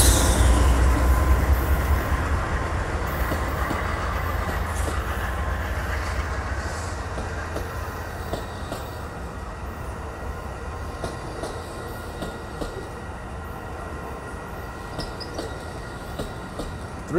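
An Amtrak Coast Starlight passenger train led by a P42 locomotive rumbles past, loud at first and fading gradually, with rolling wheel noise and faint squeals as it moves away.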